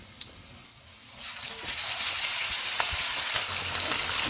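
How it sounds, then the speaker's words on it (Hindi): Chicken frying in hot oil with ginger-garlic paste in a karahi for black pepper chicken, a steady sizzle that swells louder after the first second and continues near and alone. "ऑयल गर्म हो गया, इसमें अदरक और लहसुन का पेस्ट डालेंगे, चिकन डालेंगे"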